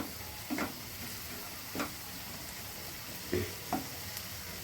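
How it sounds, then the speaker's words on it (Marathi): Chili-garlic paste and onion frying in a pan, a faint steady sizzle broken by four or five soft spatula scrapes and taps spaced unevenly across the clip. "मिरची आणि लसूणचा पेस्ट, कांदा सगळं छान भाजून घ्यायचं आहे."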